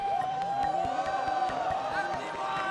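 A large tournament crowd at an Apex Legends esports event cheers and whoops for the APAC South teams, a dense roar heard at a distance under a constant tone, with a little speech mixed in.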